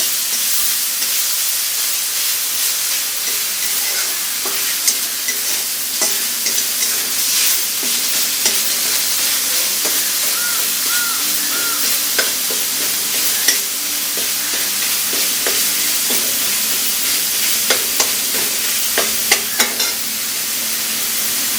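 Spices sizzle in hot oil with nigella seeds and bay leaves while cooking for a rohu fish kalia, a loud, dense, continuous hiss and crackle up close, with occasional clicks of stirring and no speech.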